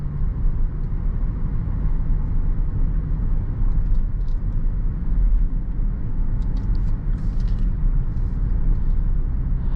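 Cabin of a 2018 Range Rover with a supercharged V6, heard while driving and accelerating: a steady low engine and road rumble with soft tyre noise and no speech over it.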